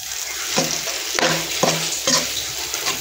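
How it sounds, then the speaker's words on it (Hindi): Gram flour (besan) roasting in oil for halwa, a close sizzle broken by about four distinct scraping stirs of a spoon against the pan. "ऑयल में शामिल करूँगी, अच्छे तरीके से भूनेंगे।"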